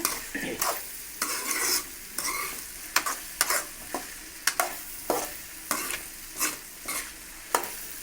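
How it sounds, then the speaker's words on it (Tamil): Spoon stirring potato poriyal coated in masala in a pan, a series of distinct scraping strokes at a steady rhythm over a low sizzle, close and clear with no talk. "இந்த மசாலா ஃபுல்லாக வந்து எல்லா கிழங்குலையும் படுற மாதிரி அப்படியே கிளறி விடுங்க"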